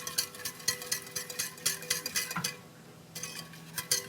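Beef stroganoff sauce with mustard being stirred in a pot, a quick series of light clicking taps of a spoon against the pot, pausing briefly before a few more strokes.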